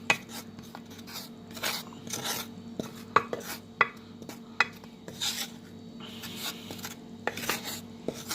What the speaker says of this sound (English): so let's stir. And I mix that around nicely there.